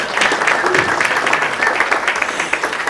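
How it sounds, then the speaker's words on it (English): Audience applause for young curators at a UK/Kenya Season 2025 cultural event, a dense, steady crowd of clapping hands that stays loud and near for the whole stretch with no talk over it. "Clap for the youths."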